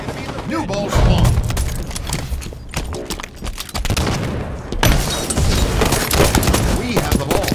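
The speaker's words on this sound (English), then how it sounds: "Watch the grenade." Grenade blast and heavy gunfire in Halo 5 on the Aquarium map, with loud bursts of rapid shots and booming impacts running continuously throughout, alongside game sounds.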